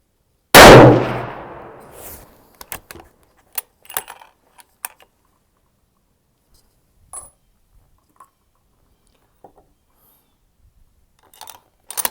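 A single loud, close rifle shot from a short-barrel .30-06 firing a 225-grain ELD Match load cracks out and decays quickly, followed by a few faint clinks and small ticks in the quiet afterward.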